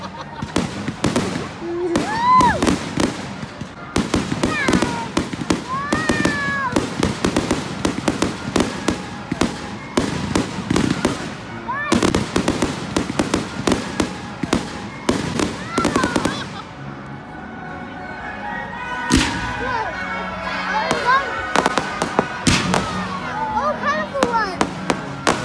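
Fireworks burst repeatedly on Bonfire Night, a dense run of sharp cracks and booms with crackling tails, loud and fairly close, easing briefly before further bangs; people talk now and then underneath.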